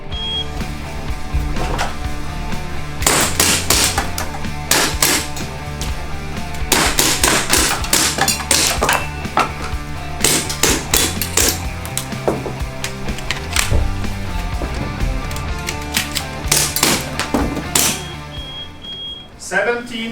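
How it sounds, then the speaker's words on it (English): Rapid airsoft gun shots crack in bursts throughout an IPSC shooting contest at an indoor range, sharp repeated snaps with brief pauses, and people speak in the background. "now we're doing the IPSC contest shooting"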